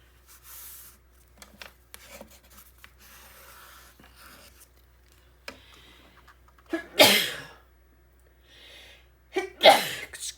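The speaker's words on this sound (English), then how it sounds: "when a sneeze comes on, it comes on" Two sharp sneezes burst out during a quiet paper-crafting session, each a loud close-up snap with a breathy lead-in, separated by a few seconds of faint rustling and handling noise.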